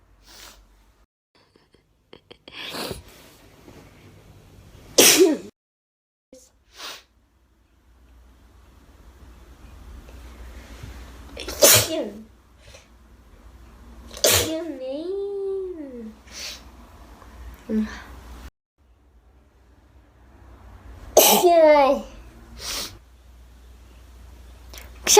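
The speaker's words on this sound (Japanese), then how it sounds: "あ、くしゃみ出そう、また。" Repeated sneezes from a woman, several sharp bursts spaced across the stretch, some preceded by short breathy intakes and soft vocal sounds, fairly close and loud against a quiet room.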